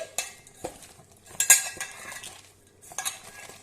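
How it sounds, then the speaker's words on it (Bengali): Boiled masoor dal is mashed by hand in a metal dish, giving soft irregular squelches and clinks that come in short bursts with quiet gaps between them. "তো ভালোভাবে চটকে নিয়ে দশ পনেরো মিনিট এভাবে চটকে নিচ্ছি"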